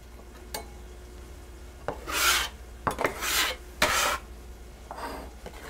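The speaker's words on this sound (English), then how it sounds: "I'm going to use this to transfer it, my bench scraper." A bench scraper scrapes across a wooden board to gather and move chopped pork, giving a few rough, raspy strokes close by, with light taps in between and no talking.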